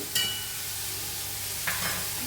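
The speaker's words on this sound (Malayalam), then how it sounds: "കുറച്ച് വേഗം ഇളക്കി" Curry for chapati is stirred quickly after salt goes in, a low steady frying hiss with two brief scraping strokes of a spoon in the pan.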